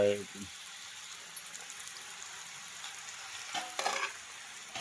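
Kajjikaya, semolina pastries stuffed with coconut and jaggery, frying in hot oil: a steady soft bubbling sizzle, a voice briefly at the start, and a burst of louder spattering near the end.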